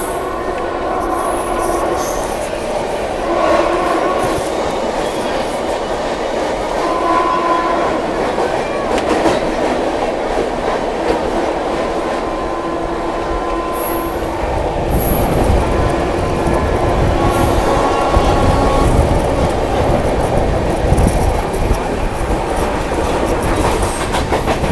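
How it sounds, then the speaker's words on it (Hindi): The Baba Baidyanath Dham Deoghar superfast express rumbles through Tundla Junction, a loud continuous train roar with clicking wheels and brief squeals, heavier low rumble in the second half. "वह टुंडला जंक्शन को स्किप कर रही है अपनी बाबा बैजनाथ धाम देवगढ़ सुपरफास्ट एक्सप्रेस।"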